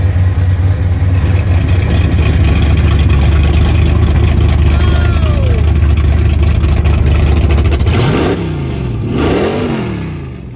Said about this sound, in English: I want you guys to hear this thing when I open up the exhaust.